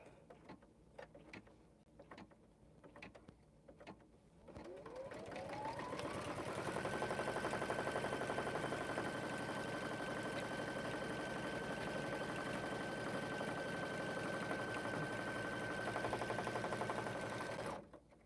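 An embroidery machine stitches a design through fabric and interfacing clamped in a hoop. A few clicks and handling noises come first, then a loud, steady, even mechanical whir that runs close and unbroken to the end.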